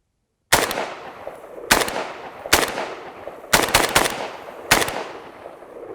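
A Century Arms N-PAP AK rifle fires about six sharp, loud shots at an uneven pace, two of them close together near the end, each followed by a short fading echo.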